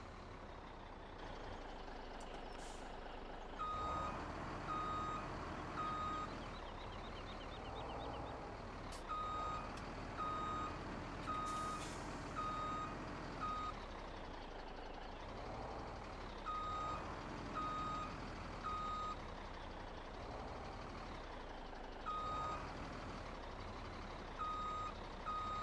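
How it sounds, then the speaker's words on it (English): A K100 truck in Farming Simulator 17 reverses, its backup alarm beeping in repeated bursts of evenly spaced tones over a low idling engine, with brief air-brake hisses between. "This truck is the K100 POW truck"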